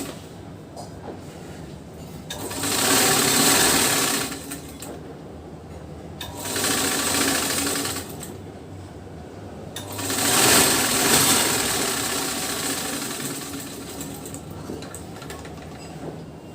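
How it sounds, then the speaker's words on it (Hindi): A sewing machine stitches the border of a blouse in three separate bursts of steady, fairly close running, with quiet pauses between them and no talking. "सबसे पहले बॉर्डर की सिलाई लगाएंगे।"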